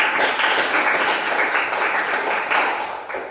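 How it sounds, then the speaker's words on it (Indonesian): A classroom of students claps hands in sustained, fairly loud applause, a dense steady patter that tapers slightly at the end. "yuk tepuk tangan buat saya"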